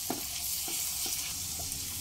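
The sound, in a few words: ginger garlic paste sautéing in pan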